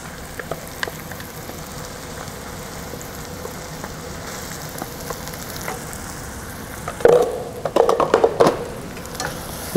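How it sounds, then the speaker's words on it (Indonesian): Ground lemongrass, kaffir lime leaf, galangal and ginger paste sizzles with onion in a hot pan. A constant frying hiss runs throughout, and stirring scrapes and clatters grow louder toward the end. "Bumbu sama dengan bawang kita tumis sampai wanginya naik ke atas."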